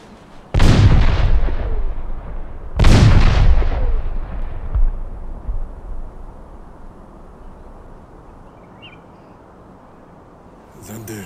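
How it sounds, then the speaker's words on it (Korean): A Joseon-era medium mortar fires with two heavy booming blasts a couple of seconds apart, each rolling into a long, fading rumble that trails off toward near silence. "불을 당겨 쏘면 땅에 떨어져 스스로 터져 산천을 흔든다는 기물이다."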